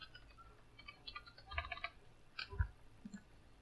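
Typing on a computer keyboard: faint, scattered key clicks in short irregular bursts, heard close up in a quiet room with no talking.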